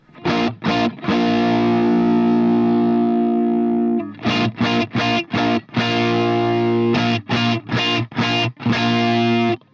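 Heavily distorted electric guitar, a Flying V with both pickups in use, playing sustained chords broken by short choppy stabs, loud and close, with no voices.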